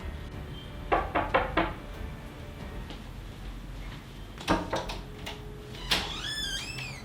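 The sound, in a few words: knocking on a door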